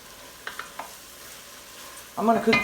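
Shrimp cooking in a pan for Cajun shrimp creole, with faint background sizzle broken by a few soft stirring clicks, then a louder burst of scraping and clatter near the end.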